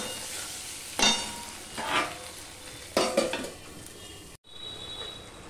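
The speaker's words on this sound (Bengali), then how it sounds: "এবার সম্পূর্ণটা মিশিয়ে নিয়ে আমি আরেকটুখানি ভেজে নেব, যতক্ষণ না টমেটোটা নরম হচ্ছে ততক্ষণ" Tomato and green chillies fry in a pan while being stirred, giving a steady sizzle with a few louder scraping stir strokes, then a brief cut to a quieter hiss.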